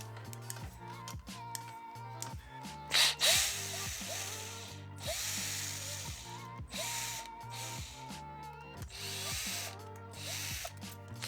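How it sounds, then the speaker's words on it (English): A power tool spins out bolts from the clutch pusher plate of a Ducati Scrambler, with repeated whirring bursts, ratcheting clicks and metallic rattles close by, separated by brief pauses. "we're gonna remove all these bolts so that we can remove them from the pusher plate"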